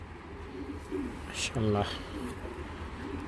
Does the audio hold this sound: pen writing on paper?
no